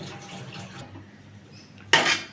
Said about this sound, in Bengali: আমি এখন ঢাকনা দিয়ে দিব।